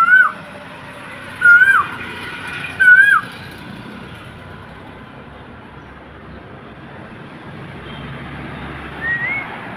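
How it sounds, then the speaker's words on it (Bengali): A cuckoo (koel) calls nearby with loud, rising whistled notes, three calls in quick succession, then a fainter one after a pause over quiet background hum. "পাখিটা কোকিলের ডাকে ডিস্টার্ব হচ্ছে।"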